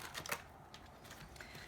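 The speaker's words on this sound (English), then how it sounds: "I'm shuffling this way because I'm just doing uprights for this week." Tarot cards are shuffled by hand in a few quick, soft papery riffles and taps close to the microphone, quiet and with no talking.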